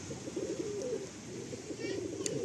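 Kalanka pigeons coo in a loft, low throaty calls rolling on one after another at close range, with faint background chatter.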